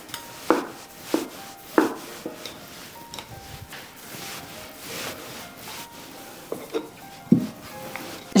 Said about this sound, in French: J'utilise ici la roulette à pizza. Il me faut juste des bords droits et lisses.